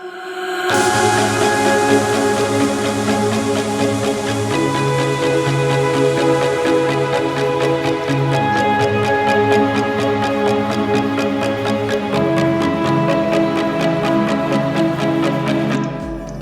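The intro of the track plays as a full, loud mix of sustained chords, layered melodic parts and a steady ticking percussive pulse, running continuously for about sixteen seconds before cutting off, with no voices.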